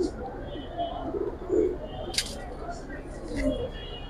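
Giribaz pigeons coo in soft, low, rounded calls, several separate coos spread across a few seconds, close by, with faint chirps and light rustling around them.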